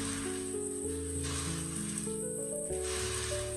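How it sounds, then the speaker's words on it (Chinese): Tofu pan-frying slowly over gentle heat, giving a steady, even sizzle that holds through the whole stretch, with soft tonal music underneath. "因为豆腐的含水量特别重，我们千万不能心急，像视频中这样慢慢的煎制"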